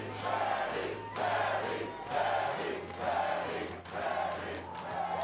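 A crowd at a SMITE 2 esports LAN event in Las Vegas cheers and chants in rhythmic surges, a roar that swells roughly once a second at a distance.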